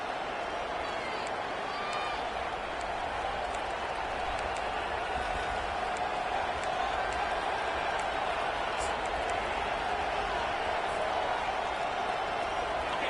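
A stadium crowd at a Kansas versus K-State college football game roars steadily and loudly, a dense sustained wall of cheering and noise with a commentator talking over it.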